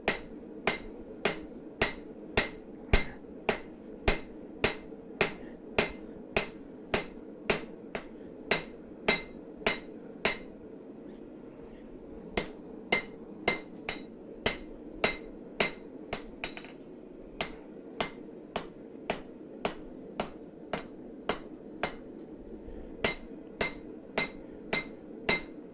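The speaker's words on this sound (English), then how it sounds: "hammering stuff super flat on here, and grinding it, and then trying to turn it into Damascus" Steady, evenly spaced hammer blows on flat steel being forged toward a Damascus blade, loud and close with ringing metallic strikes, a short pause midway, no voices.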